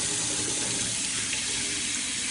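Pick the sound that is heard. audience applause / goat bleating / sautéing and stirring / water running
water running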